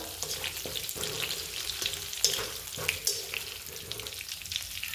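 Stuffed bitter gourds (karela) frying gently over low heat in a pan, giving a faint crackling sizzle with scattered soft clicks and scrapes as they are turned, close and quiet.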